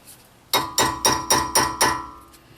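Six sharp metallic strikes of a hammer on a chisel against the rear wheel bearing hub of a Honda Accord, loud and close, spaced evenly about a quarter second apart after a brief quiet start.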